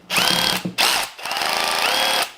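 Bosch GSB 18V 150 C cordless impact drill whirring in short bursts with its slip clutch engaged, three close, loud runs separated by brief stops, the motor pitch shifting slightly as the clutch slips.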